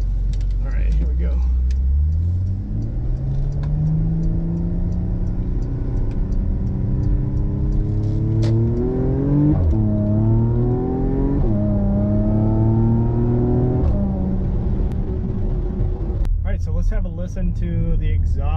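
A 2015 Porsche Macan Turbo engine revs hard and accelerates, its pitch climbing through several gear changes with a deep rumble underneath, close and steady.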